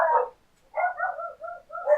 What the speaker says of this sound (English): sicked the dogs on us!